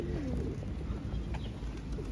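Pigeons coo outdoors where a flock has gathered, soft low burbling calls under steady background noise.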